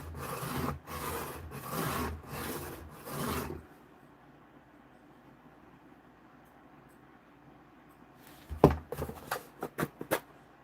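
A knife edge is drawn across a sharpening stone in several loud rasping strokes, followed by a quiet stretch and then a burst of sharper scraping strokes and a few clicks.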